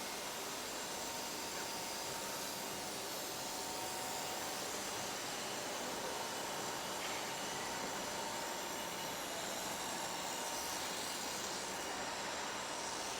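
A UPVC window U-profile forming machine runs steadily, producing a continuous broad mechanical whir and hum at moderate distance with no speech.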